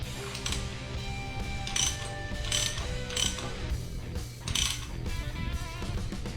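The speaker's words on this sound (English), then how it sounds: "So I need a socket and a 1/2" ratchet, please." A 1/2-inch socket ratchet turning on a 12-bolt rear end pinion while setting preload, with rapid pawl clicking in repeated strokes and short bursts of metallic ratcheting, close and continuous.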